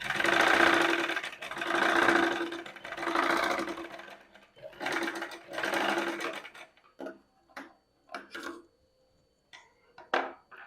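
Sewing machine stitching a U neck curve on cloth, several long whirring bursts of stitching at first, then shorter stop-start runs as the presser foot is lifted to turn the fabric, close and loud.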